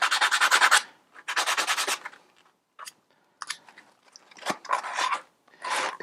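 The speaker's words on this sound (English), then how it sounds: "I'm just going to use my sanding block and get all those burrs off." Rough, rhythmic scraping strokes of a sanding block over the cut end of a plastic drain pipe, knocking off burrs during a kitchen sink and garbage disposal install, in several short bursts with pauses between, close and fairly loud.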